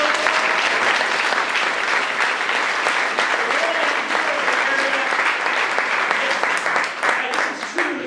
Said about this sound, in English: can I ask everybody to give a round of applause for Johannes and everyone at DLR today?